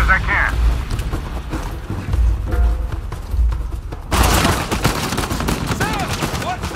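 Turret gunfire in the video game Uncharted 4 hammers in dense, loud bursts amid explosions and battle noise, with shouting voices over the action.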